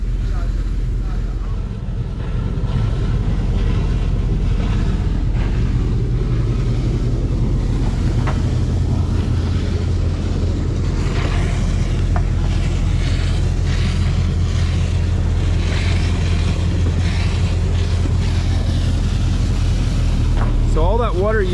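Twin 1,200-horsepower engines on a large sport-fishing boat idle steadily in a marina, a deep continuous low rumble with wind buffeting the microphone throughout.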